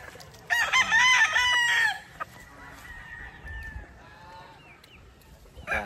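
A rooster crows loudly and close, followed by softer clucking and scattered chicken calls from the flock.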